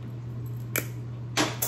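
Stems for faux caramel apples are cut for a fall display: two or three short, sharp snips ring out close by over a steady low hum, with no talk.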